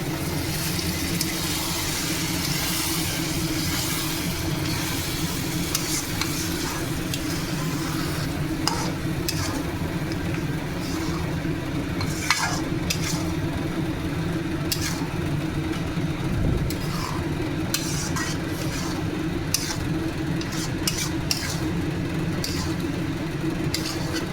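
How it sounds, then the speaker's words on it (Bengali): Mutton curry being stirred in a frying pan, a steady scraping and sizzling texture running throughout with a constant low hum beneath, occasional sharper clinks of the spoon against the pan. "এটাকে ভালো করে মিক্স করতে লাগবে।"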